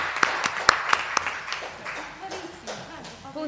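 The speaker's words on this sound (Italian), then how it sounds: "Bravissimi, ecco, un applauso." Several sharp, distinct hand claps ring out close by, then loosen into sparse, uneven clapping from a small audience at an Italian book presentation, with talk over the later part.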